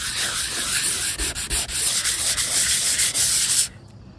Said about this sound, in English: I'm almost finished doing the wet sanding.